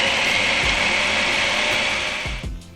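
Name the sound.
blender grinding carrots and garlic until fine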